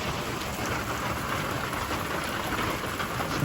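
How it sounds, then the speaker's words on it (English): Heavy rain pours onto a tin roof in a dense, steady hiss of drumming drops, loud and unbroken with no voices. "it's pouring right there and I have a tin roof and I can hear it"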